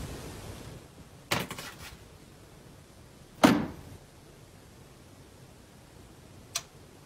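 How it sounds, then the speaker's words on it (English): Knocking at a door comes in separate bursts: a short rapid cluster of raps, a louder thud-like knock a couple of seconds later, then one faint sharp tap, each set apart by quiet room tone. "It's like knocking at the door."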